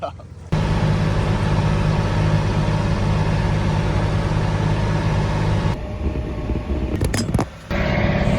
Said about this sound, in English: Look at that tractor go.